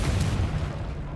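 A Confringo blasting spell explodes in the Hogwarts Legacy video game, a dense, rumbling burst that fills the whole second at steady loudness with no talk over it.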